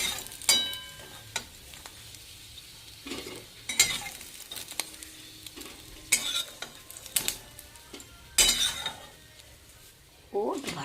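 Fish roe frying in a pan, fried on both sides and about to be lifted out: intermittent sizzling bursts with stirring and clinks of a utensil against the pan, while a person talks throughout.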